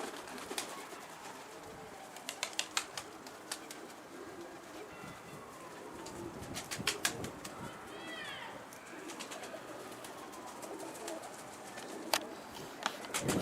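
Pigeons being fed outdoors coo and flutter nearby, with scattered sharp clicks and pecking-like taps, soft wing flaps and faint background voices.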